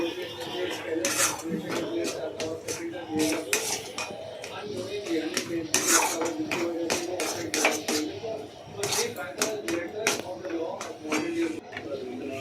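Taro paste being worked with a metal utensil in a pot, giving repeated close clinks and scrapes in an irregular rhythm throughout, with faint voices now and then.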